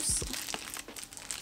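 Plastic wrapping on the handles of a Loungefly bag crinkling close up, with a couple of soft thuds at the start followed by steady rustling and crackling.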